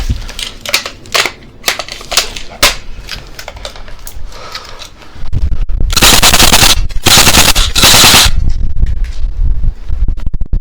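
Rapid bursts of airsoft gunfire during an outdoor airsoft game, with sharp close shots in quick strings, then a long loud sustained volley of continuous firing.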